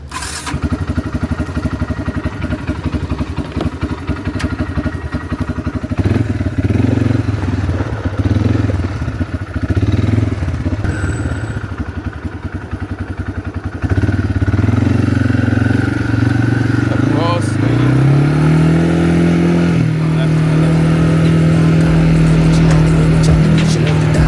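A motorcycle running close by, its engine note rough and irregular at first, then settling into a loud steady drone that climbs in pitch as it pulls away under power.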